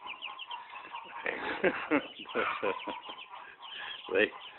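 Young chicks huddle together outdoors in sunlight, peeping and softly clucking in a busy, close chorus with bursts of louder chirps, while a person talks over them.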